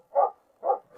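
Two sharp barks from a dog close by, then the start of a third, with brief quiet gaps between.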